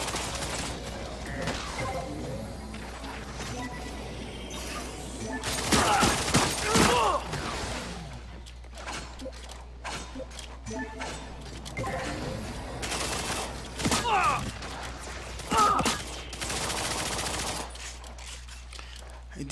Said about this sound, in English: That's suit machine gun.